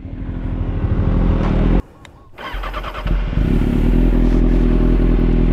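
A motorcycle engine runs loudly nearby, cuts out briefly, then restarts with clattering and settles into a steady, throaty idle.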